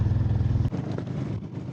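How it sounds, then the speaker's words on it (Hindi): A motorcycle in first gear on a mountain road near Langza, with a steady pulsing engine note that cuts off abruptly partway, followed by rougher clattering road noise. "हम तो फिर भी बाइक पर सैर कर रहे हैं।"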